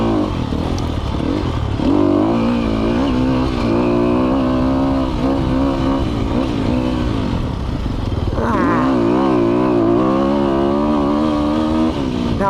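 A 2020 Sherco 300 SEF Factory dirt bike revs hard along a fast trail, its engine note climbing and falling in steady pulls with a sharp rise in pitch partway through, close and loud throughout.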